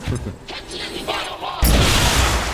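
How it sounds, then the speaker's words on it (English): A plasma grenade detonates in XCOM 2, a sudden loud broadband blast that cuts in after a stretch of talk and other game sounds, then holds as a dense roaring wash for about a second. "Let's see what we can do with this plasma grenade"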